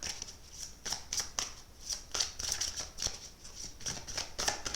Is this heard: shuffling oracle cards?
yes